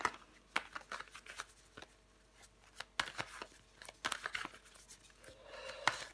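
Tarot cards being handled and turned over make close, quiet shuffling, sliding and flicking sounds, with a few sharper snaps in irregular bursts and short pauses between them, and no voices.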